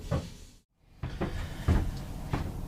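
A cabinet door aboard a cruising catamaran, fitted with new hardware, opens and shuts with several close wooden knocks and latch clicks after a brief silent gap, and no one speaks.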